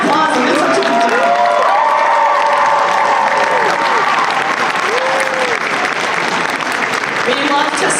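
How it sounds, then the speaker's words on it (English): Loud, sustained applause and cheering from the crowd at a convention cosplay masquerade contest, with voices calling out and talking over the steady clapping throughout. "Yes, let's give them a round of applause."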